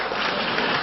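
Dense, steady audience applause at a religious lecture, loud and continuous without breaks.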